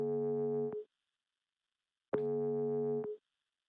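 Outgoing voice call ringing tone on a SUNCOMMS PTX dispatch console, heard as two clean, even electronic tone bursts about a second long and two seconds apart, with silence between them.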